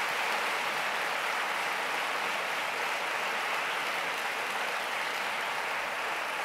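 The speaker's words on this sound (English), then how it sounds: "I will just seize the opportunity for another huge round of applause for all our speakers this morning" A conference audience giving a long round of applause for the morning's round-table speakers, a steady, even wash of many hands clapping.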